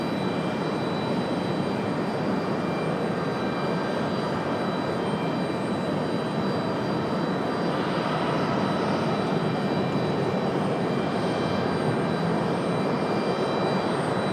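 American Airlines Boeing 777 jet airliner at Raleigh Durham airport, a steady, moderately distant engine roar that holds evenly throughout without talk.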